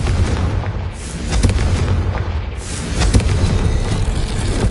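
Booming fire-spell blasts from Confringo in Hogwarts Legacy go off one after another, loud and dense, with sharp bursts around one second and three seconds over a continuous rumbling roar.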